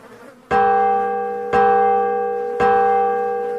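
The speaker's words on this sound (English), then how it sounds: "Do you hear that? It's the Liberty Bell." Three evenly spaced strokes of a large ringing bell, the Liberty Bell, each with a sharp onset and a long sustained hum that carries into the next strike, loud and close with no voices.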